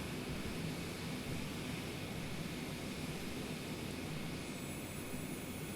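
A steady, loud airplane engine roars in Microsoft Flight Simulator 2020, a continuous broadband drone with a faint tonal hum and no voices over it.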